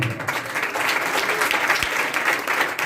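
A church congregation claps together during a Hindi-Punjabi worship service, a steady dense wash of applause filling the room at moderate loudness throughout, with no voices rising above it.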